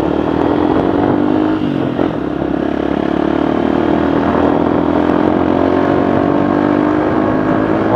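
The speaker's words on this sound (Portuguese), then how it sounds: "Nossa, o ronco mudou completamente" Motorcycle fitted with a new aftermarket exhaust, roaring and revving loudly and steadily up close for the whole stretch, a deep continuous engine note with slight pitch swells.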